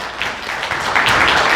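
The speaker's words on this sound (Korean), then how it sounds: "자, 박수." A church congregation at a Sunday worship service claps for a newly appointed honorary deaconess, a steady, moderately loud burst of many hands filling the room without pause.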